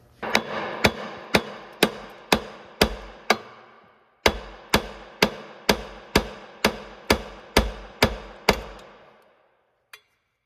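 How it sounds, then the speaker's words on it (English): A hammer strikes metal in a steady series of sharp, ringing blows, about fifteen in all, driving a lower ball joint onto a 2003-2007 Honda Accord, with a short pause partway through and one last tap. "I'm gonna hammer it on here."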